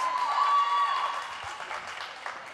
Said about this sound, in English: And the crowd is already going wild.